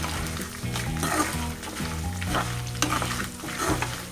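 Dried red chillies frying in hot oil for a ginger chutney, a steady close sizzle with stirring scrapes running throughout, loud and continuous without talk.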